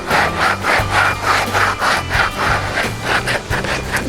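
A tanned raccoon hide being stretched by hand, producing loud, rhythmic rasping strokes close by, about two per second, like rubbing or sawing.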